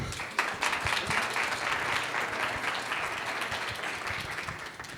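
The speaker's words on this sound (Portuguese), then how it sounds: "Para ele, uma salva de palmas." Audience applause greets a Public Labour Ministry prosecutor arriving to speak at a child-labour course in Friburgo, a steady dense clapping that fills the whole stretch with no voices over it.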